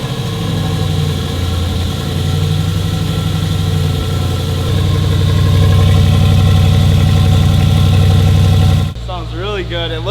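A Ford F350 pickup with a valved aftermarket exhaust cold-starts and settles into a loud, steady, deep idle rumble close by, with a voice briefly heard at the end.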